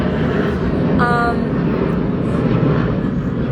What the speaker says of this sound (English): I'm so excited this plane is here, flying and doing its thing